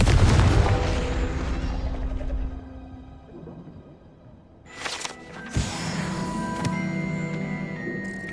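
Confringo blasting spell in the Hogwarts Legacy video game, a deep booming explosion that rolls and fades, followed by sharp magical cracks and lingering tonal effects.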